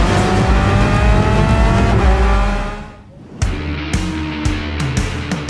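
Race cars in Gran Turismo 7 during a World Series Nations Cup online race: a loud sustained engine roar with shifting revs, a brief dip, then sharp gear changes and renewed acceleration, close and dominant.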